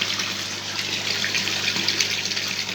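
Steady water gushing from a pond filter fed by a 3000 Mighty Mite pump, a continuous close splashing flow with no pauses and no voices.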